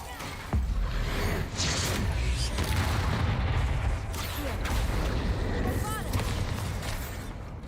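A Bombarda blasting spell goes off in Hogwarts Legacy, a heavy booming explosion with rumbling debris and other spell effects, while someone talks over the game sounds.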